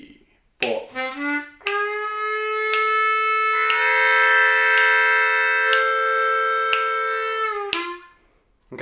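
A Bb harmonica plays a lick: a few short reedy notes, then one long sustained bending tone held for several seconds under steady foot taps, ending with a brief falling note.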